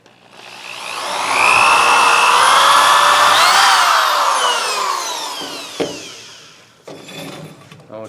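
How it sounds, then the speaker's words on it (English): A power drill bores a 3/8 inch hole through wood, its whine rising in pitch and holding steadily loud for several seconds before winding down, followed by a sharp knock and a brief scrape. "So first we're going to drill our 3/8 inch diameter hole"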